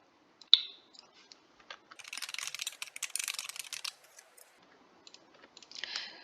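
Quick runs of computer keyboard typing as a program description is entered, the clicks clustered in bursts with short pauses and a few isolated taps, close and fairly quiet.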